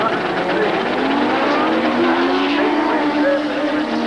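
A Suzuki Sportsman motorcycle drag racing at Santa Pod in 1990 roars continuously and loudly, its engine pitch rising as it accelerates, while a commentator talks over it.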